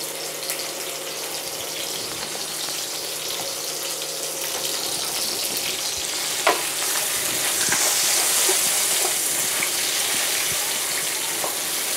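Onions and bell pepper fry in hot oil with a loud, steady sizzle that holds without a break, close up, with an occasional clack of a utensil against the pan and no talking.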